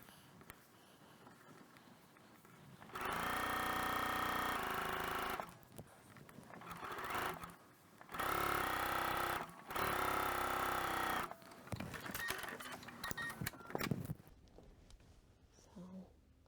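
A sewing machine stitches a hem in several bursts of steady whirring, separated by short pauses and faint handling noises; the motor sounds close and fairly loud during each run.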